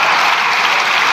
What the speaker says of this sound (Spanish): si hasta incluso están aplaudiendo diputados y diputadas de su grupo parlamentario